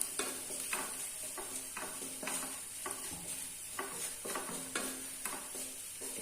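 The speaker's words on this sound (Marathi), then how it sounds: "चांगलं परतून झालंय" Spices sauté in a pan for Marathi brinjal bharit, with a soft steady sizzle and repeated rhythmic scrapes of a spoon stirring, fairly quiet and close, with no talking.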